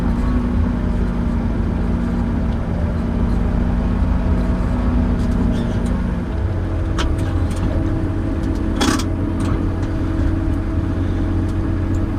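A vehicle engine with a range-command automatic gearbox shifting up through fourth, fifth and sixth gear and back down, a loud continuous drone whose pitch steps down and then rises again, close and without talk.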